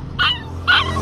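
A roadside dog that has been hit by a car lets out two short, high whimpering yelps close by, with a low background hum between them.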